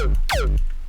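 A synthesized hardstyle kick built in Phase Plant, played without its shaper table distortion: a single loud punchy hit with a sharp attack and falling pitch sweep, a deep sustained low body, and a short tail, heard alone.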